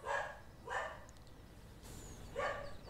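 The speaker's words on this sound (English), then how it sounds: "I have no idea why the dog is barking." A dog barks three times, fairly faint and at a distance, over steady low background hum, with no talking.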